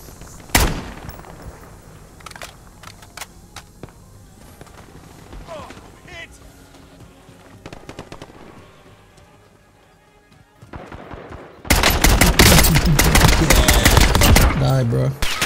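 Gunfire in Call of Duty Cold War Warzone, played on Rebirth Island: scattered shots and bursts crackle under a voice, then a loud, dense stretch of rapid automatic fire near the end.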